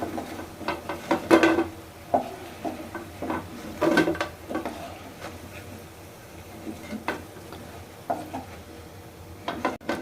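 Crispy, deeply browned homemade French fries being lifted and handled close by, giving sharp, irregular crunching crackles in scattered bursts, with occasional light clinks of utensils.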